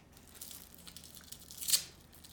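Faint crinkling and tearing of plastic packaging being pulled off an MZ Wallace Crosby bag, with a brief sharper rip near the end, quiet and close.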